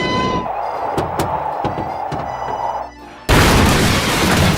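A massive vehicle explosion as a car drops from the air and blows up, with a loud booming blast and a sharp burst at the end, then dense roaring noise continuing alone.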